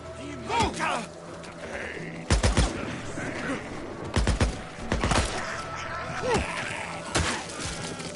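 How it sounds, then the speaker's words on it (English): Bursts of gunfire crack in clusters during a firefight in the video game Days Gone, with rapid volleys of sharp shots and voices heard between them. "Covering fire!"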